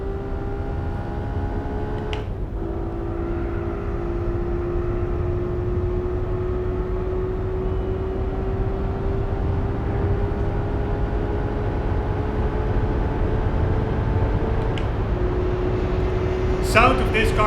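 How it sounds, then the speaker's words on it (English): A Honda NSX engine in Gran Turismo 4 drones steadily at high revs, its pitch slowly climbing with brief drops at gear shifts, loud and continuous without talk. "Sound of this car is pretty cool,"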